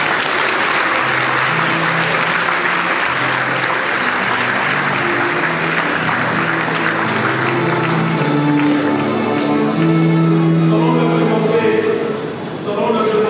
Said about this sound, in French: nous demandons à l'Assemblée de bien vouloir les applaudir